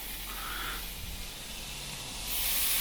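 Pork chops sizzle on a still-hot bed of barbecue coals, a steady close hiss and crackle of fat that swells louder toward the end.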